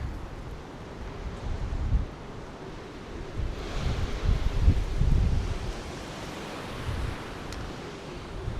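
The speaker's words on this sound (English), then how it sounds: "And it's still windy." Strong wind on a coastal hike beside a rough sea: constant gusty roar with microphone buffeting that swells and fades, surf blending into the broadband rush, no voices.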